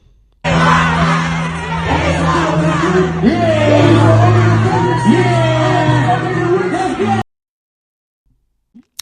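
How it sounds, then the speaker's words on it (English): A loud crowd chants "we want Rock" together in a rhythmic, repeated call for several seconds, then it cuts off into silence. "the crowd was like, we want rock, we want rock"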